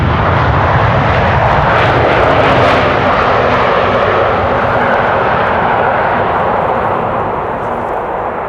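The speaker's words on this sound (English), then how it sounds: "Reversers. Not only do they have them on board, but they are able to use them as well." A KLM airliner lands at Schiphol Airport and deploys its thrust reversers. The engine roar is loud and broadband, rushing steadily and then easing slightly toward the end.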